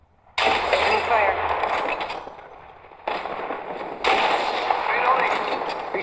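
Gunfire in Apex Legends Mobile erupts in loud, crackling bursts that start suddenly, ease off, then return twice more, with brief voice chatter underneath.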